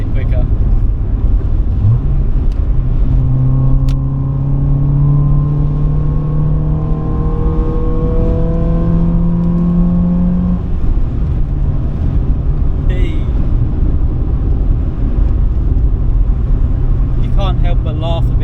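A Honda Civic D series on a drive with an aftermarket intake, its engine revving up through gears in rising and falling sweeps, loud and steady from inside the car.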